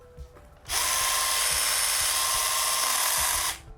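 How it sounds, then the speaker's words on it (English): A 21-volt battery-powered chainsaw carving wood whirs up suddenly and cuts steadily for about three seconds at close range, then winds down; faint knocks before it starts. "I started with the 21-volt chainsaw"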